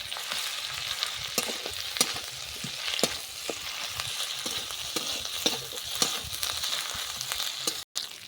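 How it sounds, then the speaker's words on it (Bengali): Ginger garlic paste stir-frying in a pan over low heat, a soft continuous sizzle punctuated by regular spatula taps and scrapes roughly every second, close and fairly quiet. "এইবার আমি আদা রসুন পেস্টটা দিয়ে দেব, দিয়ে নাড়তে থাকবো 5 থেকে 6 মিনিট।"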